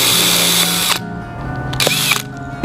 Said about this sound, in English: you or your adult helper is going to take the drill